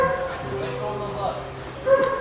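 Hunting hounds on a fox hunt by a reed bed, baying and yelping in a drawn-out chorus nearby while someone talks over them.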